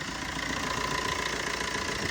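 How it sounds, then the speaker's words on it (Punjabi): A Maruti Swift car idles steadily with a close, even engine hum and a slight mechanical rattle, no change in pace throughout. "ਸੋ ਸਟਾਰਟਿੰਗ ਤੁਸੀਂ ਵੇਖ ਸਕਦੇ ਜੇ ਠੀਕ ਹੈ ਜੀ ਬਿਲਕੁਲ ਸਾਇਲੈਂਟ ਸਟਾਰਟਿੰਗ ਆ"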